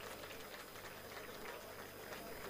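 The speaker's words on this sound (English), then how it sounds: "A round of applause for Mr. Governor." Crowd applause for the Lagos State governor at the commissioning of a junior high school in Ebute Metta, a steady, dense wash of clapping lasting throughout without pause.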